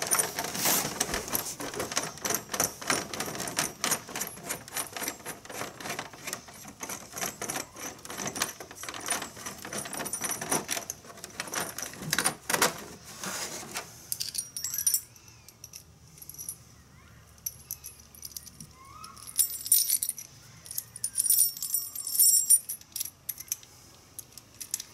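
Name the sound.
screws being removed from animatronic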